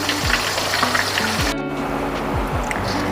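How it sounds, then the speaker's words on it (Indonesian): Squid frying in hot oil over low heat for crispy squid: a steady, dense sizzle and crackle runs throughout at an even level, with a faint low hum underneath. "kalau goreng cumi itu pakai api kecil aja"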